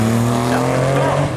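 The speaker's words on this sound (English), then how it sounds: "He's in a Nissan 300ZX twin turbo" Nissan 300ZX twin turbo at a seafront speed trial, engine roaring loud and close at high revs as it accelerates hard, with a sustained tonal drone across the short burst.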